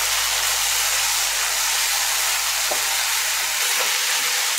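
Prawn peel and brinjal curry being mixed with spices in a pan, a steady loud sizzling hiss throughout with a few faint scraping stir sounds near the end.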